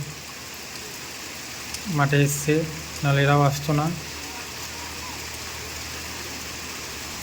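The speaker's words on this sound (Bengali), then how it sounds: "বৃষ্টি এখনও চলছে" Steady rain falling in a continuous soft hiss and patter, with a voice speaking briefly over it in the middle.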